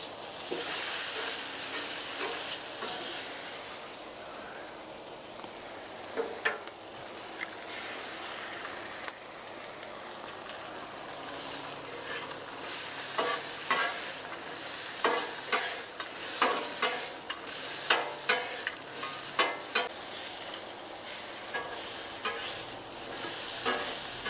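An egg frying on a Blackstone griddle sizzles steadily with a hissing, crackling texture, while a spatula or utensil taps and scrapes repeatedly on the flat-top in the later part.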